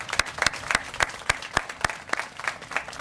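Audience clapping at an Arbor Day ceremony in 2023, a modest crowd giving sparse, sharp individual claps in an irregular rhythm, close and fairly loud, with no speech over it.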